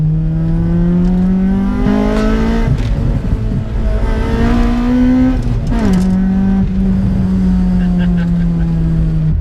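A naturally aspirated Honda VTEC engine revs hard, heard from inside the car as the pitch climbs, drops at gear changes and climbs again, loud and continuous, with a voice briefly speaking over it.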